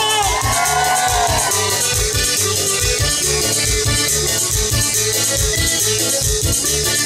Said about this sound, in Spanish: Y el grito, el grito, el grito